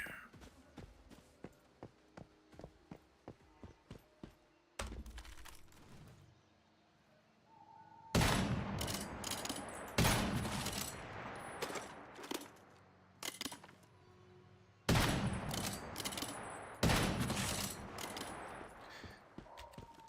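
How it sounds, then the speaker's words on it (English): Gunfire in the video game Once Human, a sniper rifle firing several loud, sharp shots in separate bursts, mixed with game effects and faint footstep-like ticks between them. "Sniper rifles work much better when you shoot them in the head."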